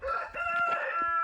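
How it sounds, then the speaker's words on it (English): A rooster crows once on a homestead, a clear, fairly near cock-a-doodle-doo lasting just over a second, with faint farmyard sounds behind. "You hear my roosters."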